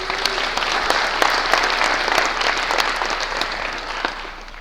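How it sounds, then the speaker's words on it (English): Steady applause from an audience fills the room for a small line-following robot built from aluminium construction-kit hardware at a developer conference, dense clapping throughout with no talk. "give him a big round of applause"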